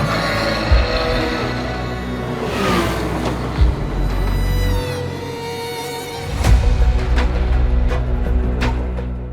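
Porsche race car lapping the Nürburgring, engine roaring loudly through repeated revving rises and drops as it shifts gears and brakes for corners, heard close from onboard.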